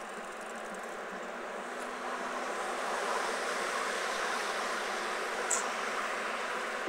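Broad, steady rushing of a river flowing beneath the Heidelberg bridge, heard from above on the bank path, continuous and moderately loud with a faint distant hum beneath it and no voices.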